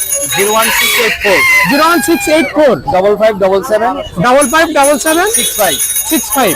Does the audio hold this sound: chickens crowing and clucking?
yes